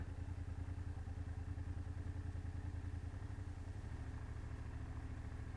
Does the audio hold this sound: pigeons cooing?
no